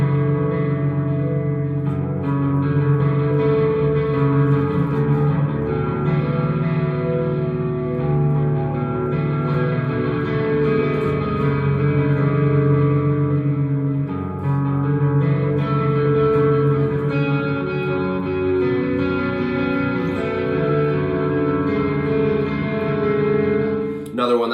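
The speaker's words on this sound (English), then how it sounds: "it's just kind of fun to play because there's lots of echo on the guitar sound" Sustained electric guitar chords from a riff, drenched in echo and reverb, ringing notes blending into a shimmering wash that holds steady throughout.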